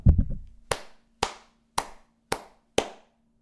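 A lone person claps six times in a slow, evenly spaced rhythm after a short burst of quicker claps, each one sharp and close, with a faint steady hum underneath.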